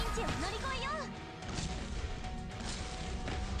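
A mortar attack in the video game Arknights, a heavy crashing impact amid busy game sound effects and chiming tones, moderately loud with no voice over it.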